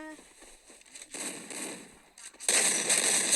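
Rapid bursts of gunfire sound in the mobile shooter game Free Fire, growing denser and louder toward the end, with a player's voice heard briefly.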